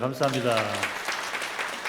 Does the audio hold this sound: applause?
yes